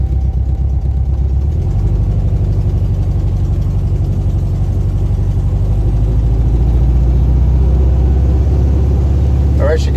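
A car engine, nicknamed Herbie, runs steadily in first gear with a loud, continuous low rumble and a slight rise in pitch as it pulls along, close by.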